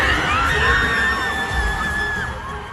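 Concert crowd at a show erupting in loud, sustained high-pitched screaming and cheering, a dense wall of shrieking voices that fills the whole stretch without a break.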